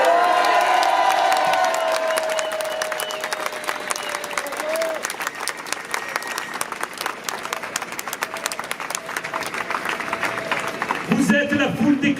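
A large crowd at a Montpellier demonstration in support of the Aquarius cheers and applauds. Dense, steady clapping fills the scene, with whoops and shouts rising at the start, and a voice enters near the end.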